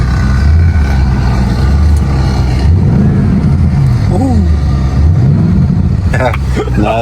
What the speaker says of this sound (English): let me rev it up a bit